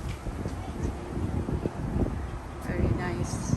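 Gusty wind buffets the microphone with uneven low rumbling, and a few faint higher sounds drift in toward the end.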